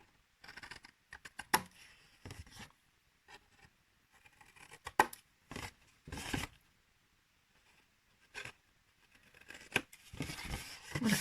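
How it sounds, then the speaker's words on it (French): Scissors snip the corners of a paper card flap in short, crisp bursts of cuts separated by quiet pauses, close and faint, with light paper rustles between. "nous allons découper les angles de la languette qui va nous permettre de fermer la pochette"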